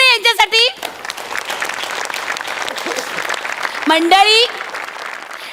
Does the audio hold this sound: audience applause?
yes